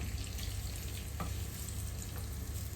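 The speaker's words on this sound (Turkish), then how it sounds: "Baharatlı kavuruyorum." Food sautés with spices in a pan, giving a steady close sizzle and crackle with a couple of faint utensil taps and no talking.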